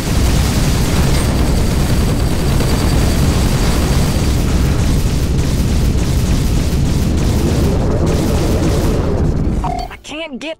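Missile explosion in the space combat video game Rebel Galaxy Outlaw: a loud, sustained roaring blast rumbles for nearly ten seconds, then cuts off abruptly into brief electronic blips.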